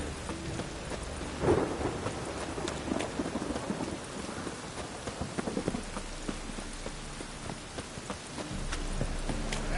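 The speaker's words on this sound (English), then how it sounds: "It's raining again." Video game rain and thunder: steady rain patters under a low rumble of thunder, with a sharp close crack early on and scattered drips throughout; no voices.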